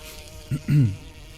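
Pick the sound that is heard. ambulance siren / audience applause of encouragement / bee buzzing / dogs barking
bee buzzing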